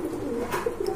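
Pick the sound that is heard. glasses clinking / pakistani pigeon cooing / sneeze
pakistani pigeon cooing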